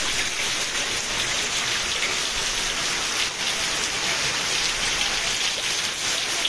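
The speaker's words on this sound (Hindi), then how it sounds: "एतकी वर्षा होउछे" Heavy rainfall pouring down in a village, a loud, dense and unbroken hiss of water that stays steady from start to finish with no voices.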